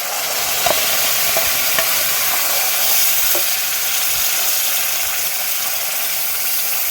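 Masala and ground spice paste sauté in hot oil for a spicy small-shrimp curry, giving a steady, loud, hissing sizzle with a few faint stirring clicks and no talking.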